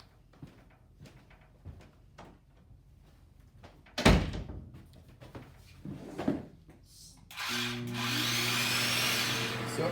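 Electric sanding mouse grinds shellac off a wood surface, a steady buzzing whine starting near the end, after a stretch of scattered knocks, scrapes and handling thumps on wood.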